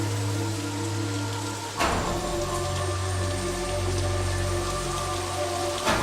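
Heavy rain falls steadily in a dense, continuous wash that stays loud throughout, with a constant low hum beneath it and one brief knock near the start, and no speech.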